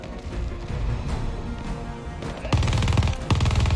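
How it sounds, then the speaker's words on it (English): Machine gun fire in Call of Duty: Vanguard, a steady rattle of rapid shots that grows heavier and louder near the end and has no voices over it. "With the machine gun."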